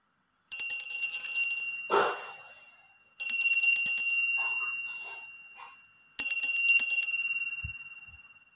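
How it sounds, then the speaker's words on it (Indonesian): Three bright, metallic bell strikes ring out at roughly even intervals, each with a long decaying shimmer, close and clear against near silence, with faint rustling between them. "di sini hasil ramalan saya akan melanjutkan dengan tanda lonceng"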